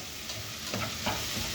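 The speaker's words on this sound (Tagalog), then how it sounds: "gigisa natin sa kamatis." Fresh lapu-lapu (grouper) being sautéed with tomatoes in a pan, Cagayan-style, gives a brief steady sizzle with a few soft stirring scrapes, close and alone.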